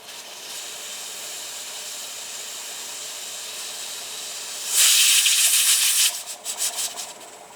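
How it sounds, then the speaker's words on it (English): A pressure canner holding meat spaghetti sauce vents steam through its weighted gauge, first as a steady faint hiss, then as a loud close burst of hissing that breaks into a few sputtering puffs. "So we should soon start seeing that weight lift up and start to vent steam."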